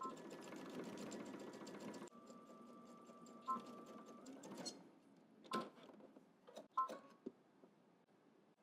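A sewing machine runs a steady, continuous stitch along a double-breasted jacket seam for about two seconds, then breaks into short, separate bursts of stitching with quiet gaps between them. It sounds close and moderately loud, with no voices.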